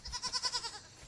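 A single goat bleats nearby, a quavering, wavering cry of several rapid pulses that fades out quickly.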